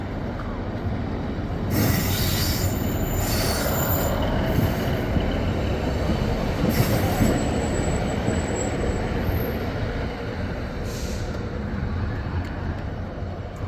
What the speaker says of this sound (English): So that's your train back again to come to what's called Stranraer.